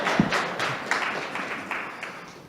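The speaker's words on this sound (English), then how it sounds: "go ahead and clap, Phil." Small audience at a functional programming user group meetup giving scattered applause, a brief burst of claps that thins and fades over a couple of seconds.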